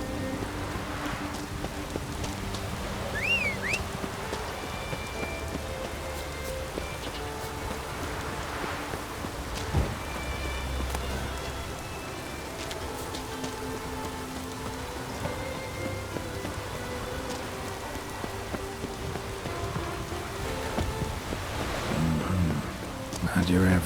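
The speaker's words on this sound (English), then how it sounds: "Looks like rain." Rain falls steadily in the open world of The Witcher 3, a continuous hiss over the whole stretch, with faint low rumbles and game music in the background.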